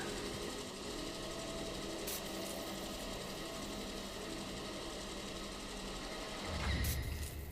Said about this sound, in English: Grinding and filtering sample. Please stand by.